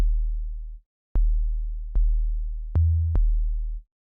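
Deep 808 bass notes from the Vital synth, five clean sine-wave hits with short decays, one pitched slightly higher, played alone in a sparse rhythmic pattern.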